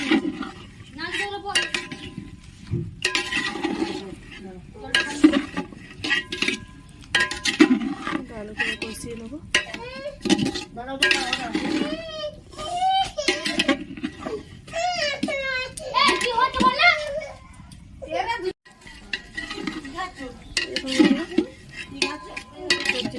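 Greens and spices being stirred and sautéed in a pot for khichuri, with repeated scraping and clinking of a spoon against metal, mostly under ongoing talk that includes a voice.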